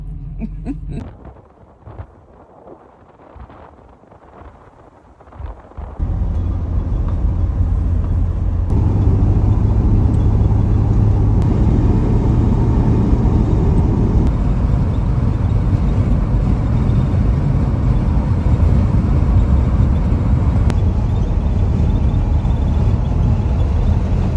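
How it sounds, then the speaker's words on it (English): Steady road rumble inside a camper van cruising on a highway toward Missoula, Montana, on a hot day. The cabin is quieter for the first few seconds, then a loud, even engine and tire drone fills the rest. "So we've been driving for a little bit now"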